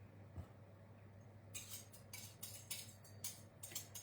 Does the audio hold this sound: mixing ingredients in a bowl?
yes